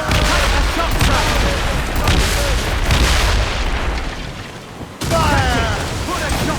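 Naval cannon battle in Assassin's Creed Rogue, with loud continuous rumbling volleys and booms from a sailing ship's guns, a brief lull near the end and then another heavy blast, under a constant roar of sea and wind.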